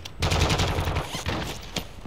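Rapid, dense shotgun and gunfire bursts in a Call of Duty: Modern Warfare II DMZ match, a quick cluster of close, loud reports followed by a few scattered shots.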